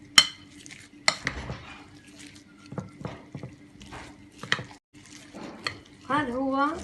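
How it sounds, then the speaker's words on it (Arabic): A spoon stirs and scrapes through a falafel mixture in a bowl before frying, with clinks and squishy mixing sounds as someone talks over it. "هاي قبل ما نقلي نحطها، نحركهم مع بعض"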